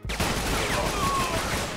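Rapid burst of gunfire from a shotgun in the 50 Cent: Bulletproof video game, loud and dense with overlapping blasts across the whole moment, with faint voices underneath.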